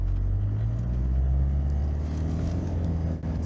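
Peugeot 206 car engine driving through Sahara sand, a steady loud low rumble and drone with no letup, heard from inside the car.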